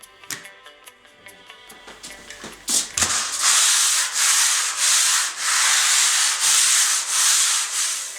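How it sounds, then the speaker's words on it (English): A long-handled sanding tool rubbed across a glass-fibre-covered wall, starting with some scraping and knocks, then a steady series of loud, rhythmic sanding strokes, each about a second long. "To avoid standing on a ladder, it's best to use a sanding tool with a long handle."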